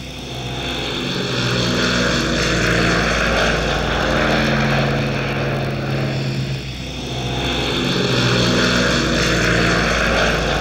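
A propeller airplane drones loudly overhead, its engine hum steady and continuous with a slight rise and fall in pitch as it passes, no voices.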